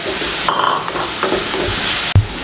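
Peas being stir-fried in a pan for a vegetable masala noodle soup: a steady hiss of frying with scraping stir strokes and a sharp knock near the end, close and fairly loud, with no talking.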